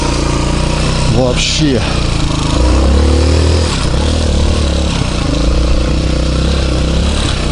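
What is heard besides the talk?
Honda MX-125 moped engine running and revving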